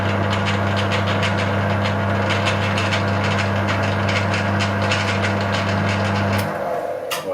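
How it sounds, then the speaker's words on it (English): A lathe turning at about 78 RPM gives a steady, loud mechanical hum that runs evenly, then cuts out and winds down near the end. "Now I've got the lathe running on,"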